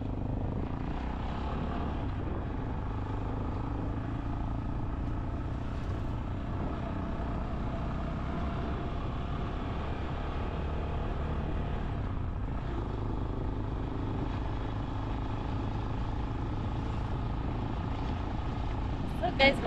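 Steady engine drone and wind rush from riding on a motorbike, continuous and fairly loud throughout, with no clear speech over it.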